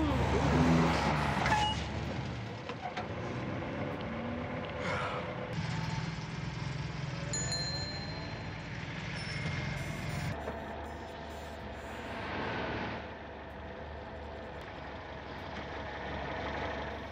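Rumbling engines of cars and trucks idling and creeping in heavy traffic, with a hiss of air brakes and some muffled voices nearby.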